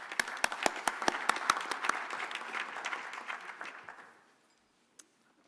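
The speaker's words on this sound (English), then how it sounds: "Give a round of applause for Professor Stander." Conference audience at a national space conference plenary applauds a speaker, with sharp individual claps over a fuller wash of clapping that fades out, followed by near silence and one last faint tap.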